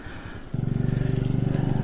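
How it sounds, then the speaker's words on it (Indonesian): A low, throbbing motorcycle engine putters nearby above a tunnel on the disused Banjar–Cijulang railway line, its steady pulsing rhythm growing louder midway through the short stretch. "Ini di sini saya dengar suara motor."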